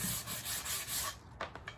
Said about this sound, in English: Probably just break it with my hand with some sandpaper.